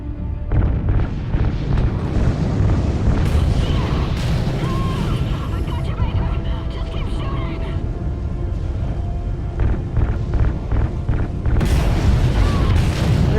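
A big explosion as RCS fuel lines are ignited in the shooter Call of Duty: Ghosts, set in space: loud booming blasts and rumbling debris roll on for many seconds, with another heavy burst near the end.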